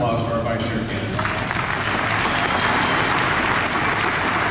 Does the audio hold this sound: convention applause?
yes